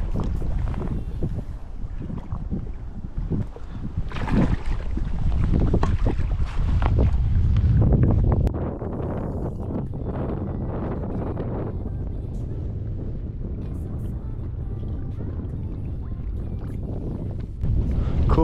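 Strong gusting wind buffets the microphone aboard a fishing boat out on the water while pike fishing in autumn, roaring loudest midway and then settling into a steady rushing noise with no clear speech.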